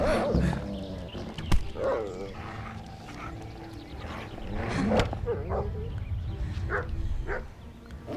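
A wolf in the medieval game Kingdom Come: Deliverance snarls and barks in several short bursts amid combat noise, with a player talking over much of it.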